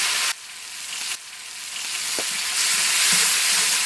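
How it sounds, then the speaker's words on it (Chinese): Garlic cloves with fresh chili sauce and spicy chili sauce fry in oil in a wok for braised pork intestines, sizzling and hissing that builds louder, broken by brief gaps and occasional stirring clatter. "锅里来点油，下入蒜瓣，来半勺鲜椒酱，半勺香辣酱"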